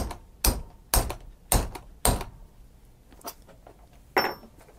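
A hand tool sets a rivet burr on a strap for a custom back brace, four sharp, close strikes at even half-second intervals, then softer taps and one last louder knock.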